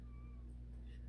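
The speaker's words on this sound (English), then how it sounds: "She's the loudest cat I've got." A house cat meows in short rising-and-falling cries, soft and somewhat distant over a steady low hum, with no one talking.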